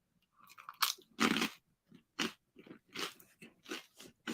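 Crunchy bread being bitten and chewed close up, a series of loud crisp crunches arriving in irregular bursts, with one big bite followed by steady chewing crackles and no talking.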